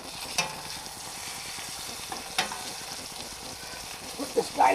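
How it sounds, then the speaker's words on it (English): Shallots sizzle steadily in a hot frying pan on a stovetop, a close, even hiss with a couple of sharp clacks from a utensil against the pan and a short stir at the end. "So, those shallots go in, you get that smell right away"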